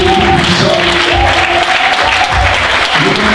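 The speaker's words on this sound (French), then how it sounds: "Est-ce qu'on peut faire monter nos fins d'acclamation vers le Dieu des armées" A church congregation applauds and cheers in worship, with dense, loud, continuous clapping that runs throughout, and sustained voices and tones can be heard beneath the applause.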